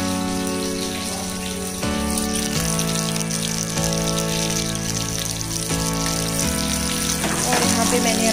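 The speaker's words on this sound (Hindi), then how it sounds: "मैं एकदम हल्का सा सैलो फ्राई कर रही हूँ" Pomfret fish shallow-fry in mustard oil in a small pan, a steady close crackle and sizzle running throughout, with someone talking over it and a background hum.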